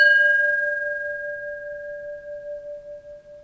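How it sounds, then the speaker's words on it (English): A personal bell rings on after being struck with a striker, a pure sustained tone with a long resonance that slowly decays with gentle wavering, close by and without other sounds. "got a beautiful tone to it. Real nice long resonance."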